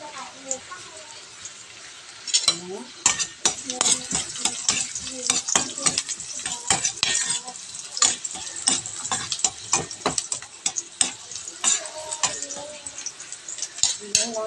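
Garlic sizzling in hot oil in a home kitchen pan, stirred with a steady series of sharp utensil scrapes and clacks over a bright crackling hiss, close and busy throughout.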